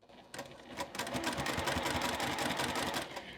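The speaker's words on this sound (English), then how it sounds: "sew to the very end, making sure that those pieces of fabric are laying in the direction that we placed them" A sewing machine stitches layered fabric pieces for a boho bag, running steadily and close with a rapid, even mechanical chatter after a brief start.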